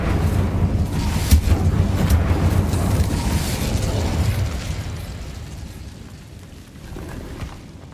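Bombarda and Confringo blasting spells go off in Hogwarts Legacy, giving loud, rumbling explosive bursts with crackling debris that fade into a quieter tail.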